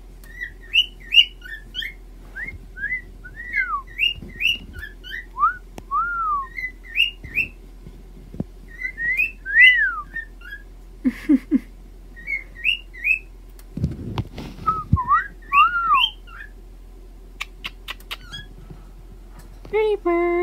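A pet bird whistles its morning song in a string of bright, repeated chirps and rising-falling whistles, close by and steady throughout, with a few low thumps and faint background noise beneath.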